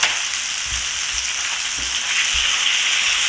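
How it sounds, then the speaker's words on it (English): Potato pieces fry in curry oil in a pot, a steady close sizzle with faint low knocks as the pieces shift. "Now that the curry has separated from the oil, we'll add in the potato."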